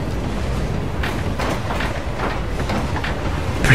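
Train moving in the video game Hitman 3, a steady loud rumbling roll with rhythmic clatter from the rails and wagons, continuous throughout with no talk.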